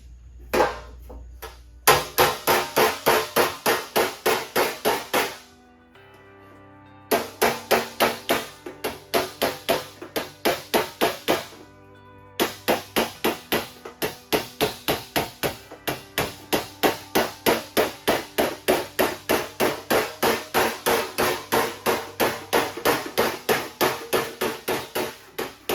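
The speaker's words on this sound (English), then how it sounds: "Just going to hammer it over a little bit just to get it to fit up there." Hammer repeatedly striking a replacement steel cowl panel on a Ford Model A to fit it into place, loud, close, rapid metallic blows in long steady runs separated by short pauses, no talking.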